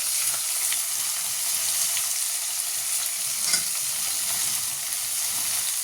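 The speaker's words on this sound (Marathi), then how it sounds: "टोमॅटो हे सर्व असं व्यवस्थित प्रकारे आपण हे परतून घेणार आहोत" Tomatoes and vegetables sautéing for dal khichdi make a constant close sizzle and hiss, with faint occasional stirring scrapes and no voices.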